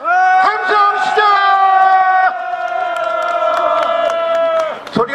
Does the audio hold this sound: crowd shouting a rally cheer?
yes